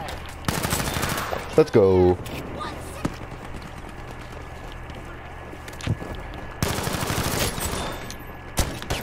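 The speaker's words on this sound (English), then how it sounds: "Okay, moving on to the M1907 SF." M1907 SF gunfire in Battlefield V, delivered in fast automatic bursts at the start and again near the end, with a short spoken line in between.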